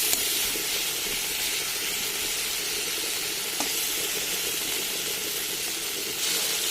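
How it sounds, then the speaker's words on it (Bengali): Masala with salt and turmeric being sautéed in hot oil in a pan while cooking home-raised chicken eggs, giving a steady, close sizzling hiss that runs unbroken and fairly loud throughout with no talk. "দিয়ে দিলাম হলুদ। মশলাটা ভালো করে কষিয়ে নেব।"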